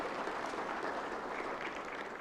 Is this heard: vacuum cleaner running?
no